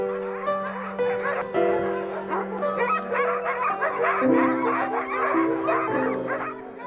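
Sled dogs before a race, a chorus of excited barks, yips and whimpers overlapping continuously, loud and close, with a little human laughter mixed in.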